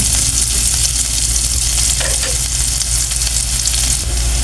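Bean sprouts and tofu sauté in a hot pan with a loud, dense, continuous sizzle and occasional stirring, heard up close with no talking.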